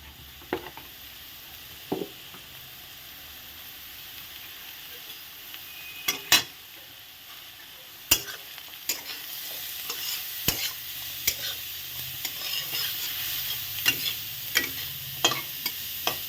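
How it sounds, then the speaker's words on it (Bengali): Cauliflower frying with turmeric powder, stirred in a pan: a quiet background sizzle broken by sharp scrapes and clicks of a spatula, growing busier toward the end, with no voices. "হলুদের গুঁড়ো দিয়ে দিলাম। দিয়ে আমি এটাকে ভালো করে ভেজে নেব।"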